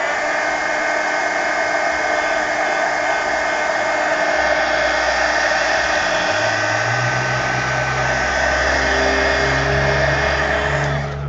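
Hair dryer drying paint on an art journal page: a loud, steady blowing whir held for over ten seconds, its pitch shifting slightly partway through as the airflow changes.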